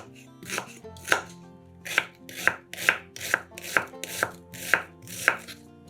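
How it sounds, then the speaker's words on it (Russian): A knife chopping an onion into cubes on a board: about ten crisp, evenly spaced cuts in a steady rhythm, close and clear, with no talking. "Одну луковицу нарезаем кубиками."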